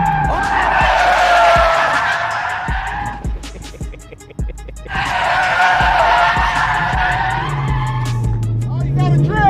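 A drift car skids through a handbrake test, tires squealing loudly in two long bursts with a short pause between, engine revving underneath and people talking and exclaiming over it.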